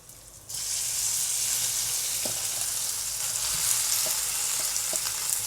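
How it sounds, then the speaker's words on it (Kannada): Boiled potatoes tipped into a hot frying pan for aloo sagu set off a loud, steady sizzle that jumps in suddenly and holds, with a few faint stirring clinks along the way. "ಇವಾಗ ಇದಕ್ಕೆ ನಾನು ಏನು ಬಾಯ್ಲ್ ಮಾಡಿದ್ದೀನಲ್ಲ ಆಲೂ, ಅದನ್ನು ಹಾಕ್ಕೊಳ್ತಾ ಇದ್ದೀನಿ"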